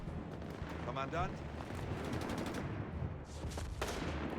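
Machine gun fire and an artillery barrage in Company of Heroes 3, a dense, continuous rumble of rapid shots and blasts with bursts of crackling fire, moderately distant under a steady battle din.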